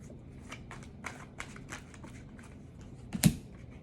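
Tarot cards shuffled and drawn in a series of soft, papery riffles and flicks, ending with one sharper slap as a card is laid down, close and quiet with no talking.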